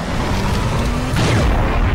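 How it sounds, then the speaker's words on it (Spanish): A loud, low boom from an explosion in the Skibidi Toilet Zombie Universe animation, a heavy rumbling blast swelling about halfway through over a constant background roar. "eso era la explosión que habíamos escuchado"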